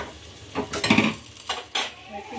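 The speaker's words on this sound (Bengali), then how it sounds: "পাঁচ ফোড়ন, শুকনো লঙ্কা, তেজপাতা সর্ষের তেলে ভেজে সেটাকে ফোড়ন দেওয়া হচ্ছে।" Panch phoron, dried chilli and bay leaf fry in mustard oil with a soft sizzle, broken by several sharp scrapes and clinks of a utensil stirring against the pan, close by.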